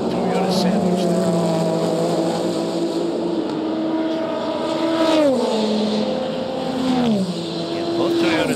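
Porsche and Toyota endurance race cars at the 2023 24 Hours of Le Mans, engines roaring close by with rising and falling pitch as they pass and shift, under a commentator's talk.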